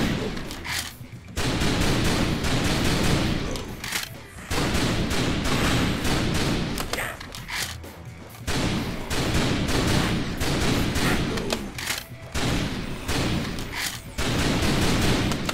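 Rapid, sustained gunfire from the light-gun shooter House of the Dead Overkill on PS3, loud and dense with thumping bursts and only brief gaps between volleys.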